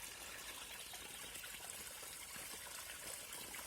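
Small garden stream running steadily over stones, a soft continuous trickle and babble, faint and even throughout with no voices.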